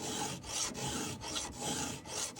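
A hand file scrapes saw teeth on a hardwood saw in close, rhythmic rasping strokes, about six passes with brief pauses between each.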